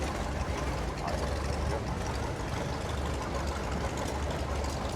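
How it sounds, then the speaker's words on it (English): A 1937 Farmall F20 tractor engine runs steadily at a show, giving a continuous loud, throbbing mechanical drone with no pauses. "David's driving this. This will be a 1937. This is an F20"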